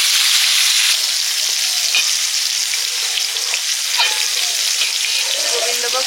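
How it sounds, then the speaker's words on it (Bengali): Pointed gourd (potol) slices fry in hot oil with a steady, close sizzle and light crackle that carries on unbroken, with a few soft stirring scrapes near the end. "পটলটা ভাজতে হচ্ছে"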